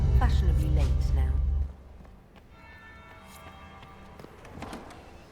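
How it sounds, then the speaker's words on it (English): A deep bell tolls loudly in Dragon Age: Inquisition, its heavy low ring filling the first second and a half before fading away, with quieter ambient sound and faint voices after. "That would be the second bell."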